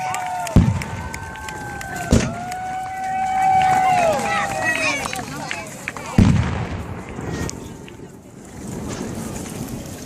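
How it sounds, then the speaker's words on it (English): Cannons boom in a Civil War reenactment battle as a Confederate battery fires, several sharp, heavy blasts a few seconds apart with a rumbling tail, heard outdoors over wind, a sustained tone and a commentator talking. "Confederate artillery now up with a full battery barrage."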